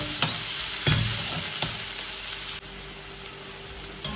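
Chopped large onion frying in a pan makes a loud, close hiss, punctuated by a few sharp spatula knocks and scrapes as it is stirred.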